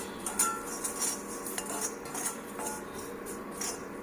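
A spoon stirring fenugreek powder into a ginger curry mix in a pan for a Kerala sadya inchi curry, with continuous scraping and metallic clinks against the pan at close range.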